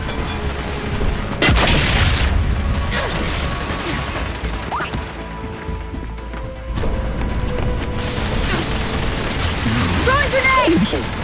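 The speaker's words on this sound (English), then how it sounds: "Throwing frag!" Frag grenade blasts and gunfire in Gears 5 combat, with loud booms, mechanical clatter and crashes over continuous noise, and voices shouting under the action.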